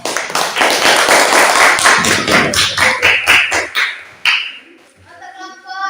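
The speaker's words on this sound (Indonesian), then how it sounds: "ya berikan tepuk tangan" A group claps hands together in a community gathering, loud rhythmic claps in quick succession that thin out and stop after a few seconds, followed by a voice.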